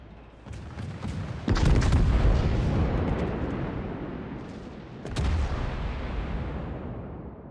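Battleship main guns firing in the naval video game World of Warships, Jean Bart, two heavy booming salvos with long rumbling decays, loud and close, the second coming a few seconds after the first.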